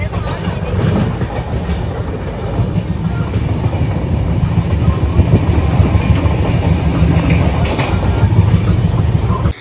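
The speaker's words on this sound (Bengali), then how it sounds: "ট্রেনের আওয়াজ শুনে ভয় পেয়ে যাচ্ছে" A train running on its tracks at night, with a loud, continuous rumble and rattling clatter of the wagons heard from inside, steady and close throughout.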